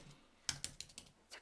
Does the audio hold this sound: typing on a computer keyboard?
yes